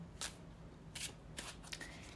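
A tarot card deck is shuffled in several quick, crisp riffling bursts, close and fairly quiet, with no talking.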